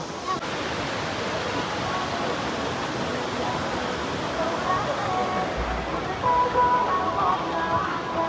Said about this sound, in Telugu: అటు పక్క ఏమో వాటర్ ఫాల్ ఉంది ఇటు పక్క ఏమో విలేజ్ ఉంది